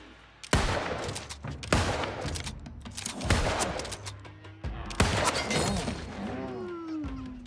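Gunshots ring out in the video game New World, with four loud, sharp reports spaced about a second apart, each followed by a brief ringing tail, close and alone, with a rising whine fading in at the end.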